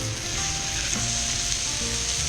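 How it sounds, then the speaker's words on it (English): Stuffed Juicy Lucy cheeseburger patties sizzle on a Weber Q griddle over medium-high heat, giving a steady, close frying hiss with faint crackle for the whole stretch and no talking. "Now grab each of your Juicy Lucy patties and place them directly on the griddle."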